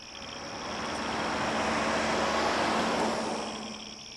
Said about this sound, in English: One night, a passing car gave me the clue.